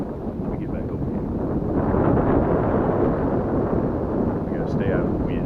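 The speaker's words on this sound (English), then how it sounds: "I got to stay out of the wind." Wind on a lakeshore during crappie fishing, a loud continuous roar buffeting the microphone with a low rumble throughout.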